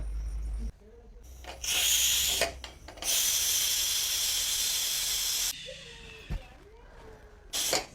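A home pressure cooker cooking rice vents steam in loud, sustained hissing bursts, one long blast of several seconds between shorter ones, with a brief voice heard in a gap.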